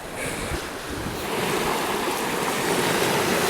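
Wind roars steadily along the shore at Vermillion Point, buffeting the microphone in a dense, loud rush with waves washing underneath, building slightly toward the end, with no voices.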